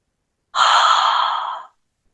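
A single slow, deep exhale during a chair yoga session comes through up close and alone. It is a smooth breathy rush lasting about a second that fades out at the end.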